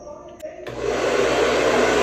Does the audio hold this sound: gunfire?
no